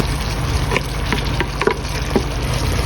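Bicolor bell peppers drop into a hot frying pan with a loud, steady sizzle and a few light stirring clicks and taps over the hiss.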